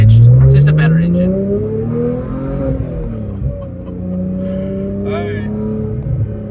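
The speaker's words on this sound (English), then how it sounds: "This has way more mid-range, revs higher, a little more high-pitched." A Porsche engine revs hard, its pitch climbing smoothly into a high, sharp howl and then holding through steady upshifts, heard from inside the car. Voices chatter over the engine.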